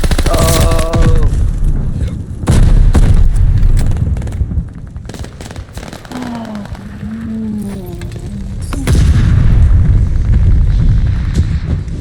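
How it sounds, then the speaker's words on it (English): Mortar shells explode in Call of Duty Vanguard, loud heavy booms and rumbling blasts in repeated bursts mixed with gunfire and chaotic battle noise, with voices talking over it. "They're sending mortar shells."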